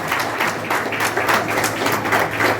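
Steady, dense applause from a large crowd at an awards ceremony, many hands clapping continuously without pause.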